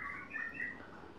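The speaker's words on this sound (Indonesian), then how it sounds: "Itu bunyi kapas tembak itu di kandang beberapa itu." Kapas tembak birds singing in cages at a murai batu breeding farm, a short burst of bright chirping phrases at moderate distance, fairly faint, with no voices.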